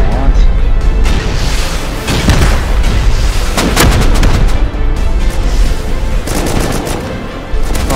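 Constant loud, booming explosions and gunfire from a large rocket raid in the survival game Rust, heavy and continuous with repeated sharp blasts, and voices talking over it.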